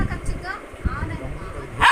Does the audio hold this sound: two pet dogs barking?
yes